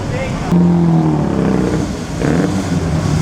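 A vintage race car, the 1940 winner, drives past during the 2013 Mille Miglia. A loud engine note swells and then drops in pitch as it goes by over steady outdoor noise.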